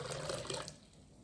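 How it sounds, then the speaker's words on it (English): Hot water splashes from a container into a cup for a borax ornament craft, giving a brief, soft gushing pour that tapers off after about half a second into quiet. "I'm gonna pour my hot water in."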